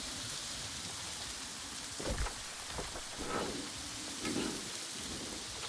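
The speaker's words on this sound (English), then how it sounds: "I think Morningdale is one of the only areas where it's raining persistently." Steady rain falling persistently in the Morningdale region of the New World MMORPG, a constant broadband wash with a few slightly louder low rumbling swells in the middle, no voices.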